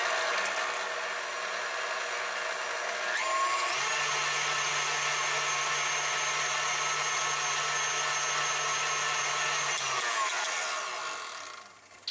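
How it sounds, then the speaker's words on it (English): An electric stand mixer whirs steadily while creaming sour cream, butter and cream cheese, a constant motor hum that shifts pitch as it speeds up, then winds down at the end. "Now to my mixer, I'm gonna put in my sour cream, butter, and cream cheese and cream those together."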